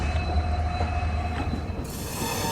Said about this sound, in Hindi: मालगाड़ी पूरी क्रॉस हुई भी नहीं थी कि हम सफ़र चालू हो गई